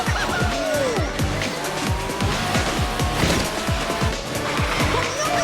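A racing car in a mobile racing game drifts with a loud revving engine and sustained tire squeal, plus rapid repeated engine pulses, steady and close throughout without speech.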